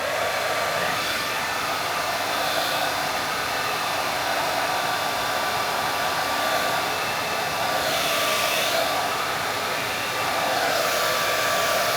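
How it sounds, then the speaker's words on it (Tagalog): A handheld hair dryer blows continuously at close range, a loud, steady whooshing roar that holds without pause, with small shifts in tone as it is moved about, and no talking. "Hair dryer nga tayo."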